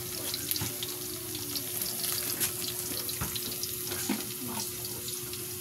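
A small amount of onion fries in a pan in a home kitchen while a mussel dish is prepared. A quiet, continuous sizzle carries scattered crackles and light clicks over a faint steady hum.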